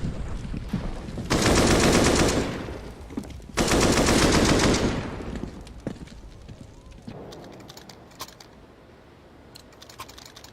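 MP9 submachine guns fire in a professional Counter-Strike esports match, two loud sustained bursts of rapid gunfire about two seconds long each, followed by quieter scattered shots and clicks.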